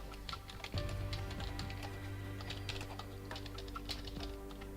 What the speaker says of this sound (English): I'm like typing MTG miniatures